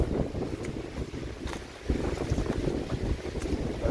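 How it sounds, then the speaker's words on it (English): Gusty wind buffeting a microphone on the Appalachian Trail, low roaring bursts that rise and fall, loud and close with no voices. "It's just windy."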